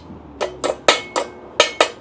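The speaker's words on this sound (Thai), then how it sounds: "เคาะ" A hammer taps steel angle iron six times while it is tacked and shaped for welding, giving sharp, close metallic knocks in an uneven rhythm with no talk.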